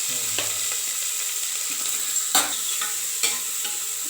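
Dried green chillies sauté in a pan, giving a loud, steady sizzle with intermittent scrapes and knocks from stirring.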